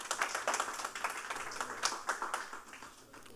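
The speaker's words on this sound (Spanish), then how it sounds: "Aplausos para ellos." Applause from an audience at a virtual award ceremony for EsSalud innovation projects, a fairly faint, steady patter of claps running for a few seconds without talk.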